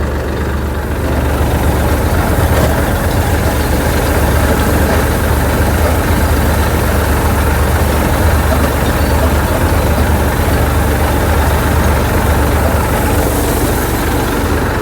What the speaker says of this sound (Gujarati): આ ટ્રેક્ટર છે